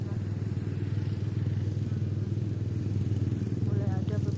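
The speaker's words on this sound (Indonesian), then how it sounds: "Ada beberapa motor di sana." Motorcycles run near a mix of village and rice-field surroundings, giving a continuous buzzing engine drone that holds at a steady level for several seconds.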